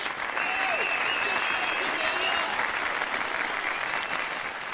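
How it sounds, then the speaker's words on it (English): A crowd in the video game Yakuza 0 claps in sustained, dense applause, steady throughout, with faint voices mixed in. "A round of applause for his courage!"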